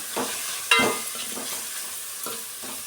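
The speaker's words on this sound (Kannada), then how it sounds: "ಮಸಾಲೆ ಎಲ್ಲ ಈ ಥರ ಒಂದು ಸತಿ ಮಿಕ್ಸ್ ಮಾಡ್ಕೊಬೇಕು" Spices for bean sambar fry in a pan and are stirred with a utensil. A steady close sizzle runs throughout, broken by several distinct scraping strokes, one sharply louder near the start.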